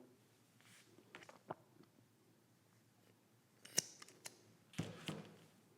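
Scissors cut through a sewn fabric seam on a robe sewing project, making quiet, close snips and crisp clicks, a few sparse ones at first and then a faster cluster near the end.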